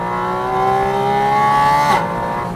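A Porsche 718 Spyder RS convertible's engine sings loud and close, its tone climbing steadily as it revs up before a sharp shift near the end, with no talking.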